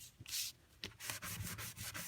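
Sandpaper rubs back and forth across stamped cardstock to strip its finish, giving quick, close scratchy strokes in an irregular rhythm with brief gaps.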